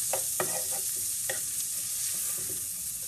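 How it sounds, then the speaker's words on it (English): Onion fries in a pan with a bit of bacon fat for chipotle cream chicken, giving a steady close sizzle with a few scraping stirs near the start and no talking. "Okay, so I'm gonna go ahead and let my onion get a little bit of a color."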